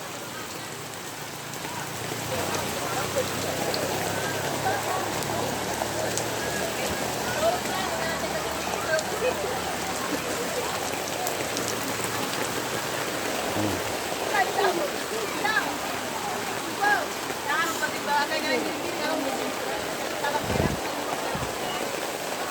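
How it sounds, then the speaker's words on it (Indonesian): Heavy rain pours steadily on a market, a dense, continuous hiss of drops hitting surfaces, loud and close for the whole stretch. "Hujan. Air. Hujan."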